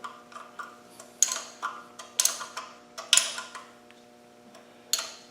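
A hand spanner works around engine sump bolts, producing a series of sharp ticks, creaks and clicks in irregular bursts, fairly close in a quiet space.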